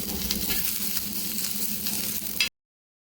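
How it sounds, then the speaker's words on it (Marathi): Onion fries in oil with a steady, close hiss and sizzle that cuts off abruptly near the end. "आता कांदा देखील आपण भाजून घेणार आहोत आणि कांद्यामध्ये देखील थोडंसं तेल टाकून कांदा भाजून घ्यायचा."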